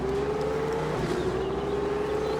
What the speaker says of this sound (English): It's screaming like a sewing machine engine.